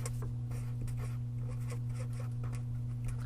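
A pen or pencil scratches steadily across paper as an answer is written out by hand, a string of short close strokes over a low constant hum, with no talk.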